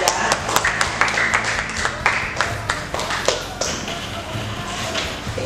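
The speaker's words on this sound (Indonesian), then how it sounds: "tepuk tangan untuk kita semuanya ya" A class in an Indonesian teacher-training lesson claps hands in scattered, uneven bursts, fairly close, with voices talking underneath and some thumps mixed in.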